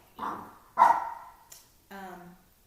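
A pet dog barks in several sharp, separate bursts close by, with short pauses between them, heard at home with no talk over it.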